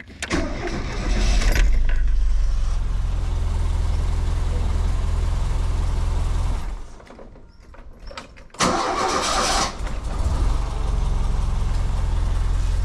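Renault Megane 3 engine cranking and firing up after its starter was repaired, heard as a loud close start that settles into a steady idle, dips briefly, then revs up again.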